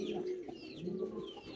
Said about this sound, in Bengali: আপনারা দেখতে পাচ্ছেন এখানে একজোড়া চরেলা রানিং কবুতর।